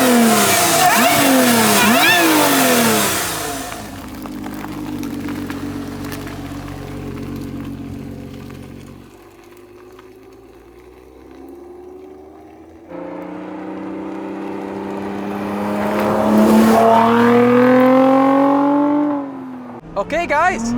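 A Lotus Emira V6 First Edition engine idles loudly in Track mode, revving up and settling again close by while someone talks over it.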